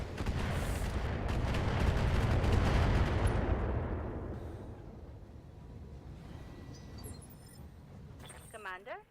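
Mech weapons and missile launchers firing in the BattleTech video game, a loud sustained barrage of blasts and explosions that fades over several seconds before a brief electronic sound at the end.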